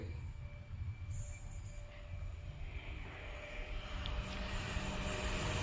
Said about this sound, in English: In fact, we have another freight train, so I can show you a good example.